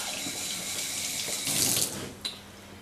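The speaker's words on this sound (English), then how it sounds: "So you shall give them a quick rinse." A kitchen tap runs steadily as food is rinsed beneath it, a close hissing splash of water that swells briefly as the items pass through the stream, with no voices.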